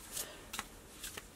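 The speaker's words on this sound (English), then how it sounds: "let me give this a good shuffle." A deck of cards being shuffled in three quick, crisp riffling bursts, close and fairly quiet, with no talking.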